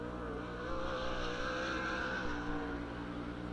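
Sprint car engine roaring steadily through a time-trial qualifying lap at Lernerville Speedway, a World of Outlaws car run hard at high revs, loud and sustained with a slight swell midway.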